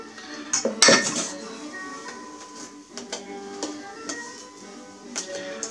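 Egg whites are folded and whisked into a lemon tiramisu mixture in a bowl, giving light clinks and scrapes of a utensil against the bowl with one sharp knock near the start.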